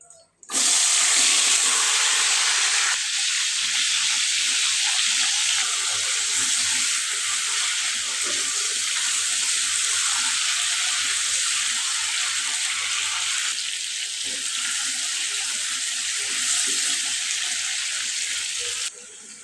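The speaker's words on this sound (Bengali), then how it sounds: "এখানে আমি আলু কেটে হলুদ লবণ দিয়ে মাখিয়ে নিয়েছি এখন ভেজে নেব" Sliced potatoes coated in turmeric and salt frying in hot oil make a loud, continuous close-up hiss that holds steady for nearly twenty seconds before cutting off.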